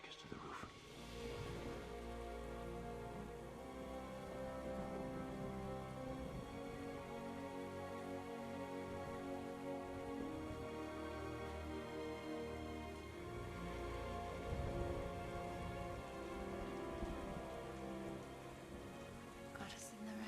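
Rain falls steadily on surfaces, a continuous faint patter that stays even throughout, with a soft voice faintly audible beneath it.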